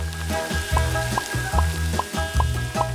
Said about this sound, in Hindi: अब तेल को थोड़ा गरम करें और कटा हुआ टॉर्टिया सुनहरा भूरा होने तक तलना है